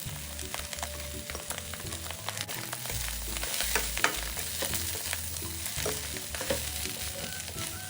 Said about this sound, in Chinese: 将所有食材炒香后